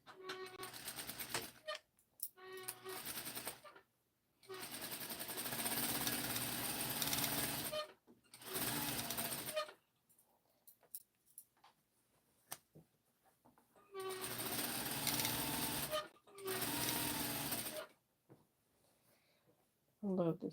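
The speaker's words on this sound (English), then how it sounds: "I'm sewing up the inseam now" A sewing machine stitches the inseam of a rainbow corduroy jumpsuit in several loud, steady bursts of rapid mechanical whirring, each a few seconds long, separated by quiet pauses with faint handling noises.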